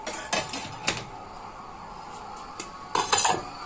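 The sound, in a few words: opening the lid of a cooking pot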